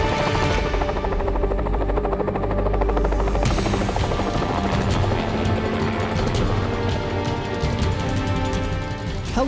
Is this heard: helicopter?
yes